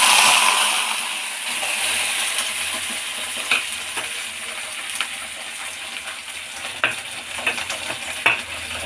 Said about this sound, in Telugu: ఆయిల్ హీట్ అయిన తర్వాత పచ్చిమిరపకాయలు జీలకర్ర చింతపండు ఇవన్నీ ఆయిల్లో హీట్ అయిన తర్వాత వేసేసుకోవాలి